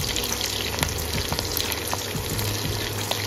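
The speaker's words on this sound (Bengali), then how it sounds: "এবার দিয়ে দেবো কেটে রাখা পেঁয়াজের টুকরোগুলো। এবার হালকা একটু নাড়াচাড়া করে নেব।" Chopped onion pieces fry in hot oil in a pan while chilli chicken is being made, giving a loud, dense, continuous sizzle close up with faint stirring scrapes.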